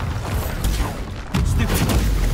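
A Bombarda spell blast in Hogwarts Legacy during a dark sorcery combat wave, loud booming impacts with a heavier low rumble landing midway, amid ongoing battle noise.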